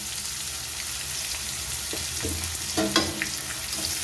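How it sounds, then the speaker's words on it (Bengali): Onions frying in hot oil with cumin and bay leaf, a steady low sizzle, then a few louder scraping stirs and clatters toward the end, no speech. "এবার পেঁয়াজগুলোকে যতক্ষণ না বেশ ব্রাউন হয়ে আসছে মানে একটু লাল লাল হয়ে আসছে না যতক্ষণ ততক্ষণ এগুলোকে ভালো করে ভাজবো"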